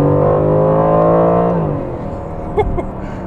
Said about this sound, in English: The engine actually definitely sounds better than it did in the AMG GTS.